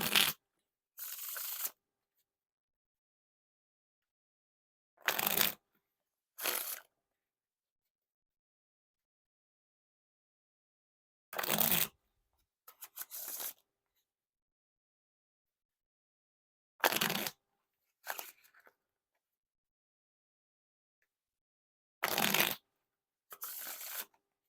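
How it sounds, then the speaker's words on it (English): Bicycle Astronaut playing cards being riffle shuffled in several separate bursts, each a quick crisp flutter of cards followed by a soft bridge, close and clear against near silence. "the Riffle Shuffle or Bridge Shuffle, these cards are pretty smooth"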